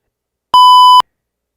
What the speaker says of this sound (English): I gotta beep that shit out again.